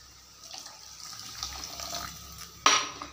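Water from a tap runs and splashes steadily into a pan that already holds milk, soft and continuous, with a brief louder splash near the end.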